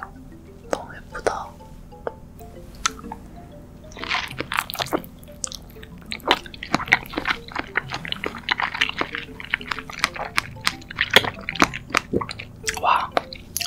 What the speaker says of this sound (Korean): 딸기 젤리 먼저 먹어볼게요